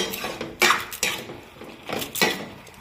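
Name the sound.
stirring ginger and tomato vegetables in a cooking pot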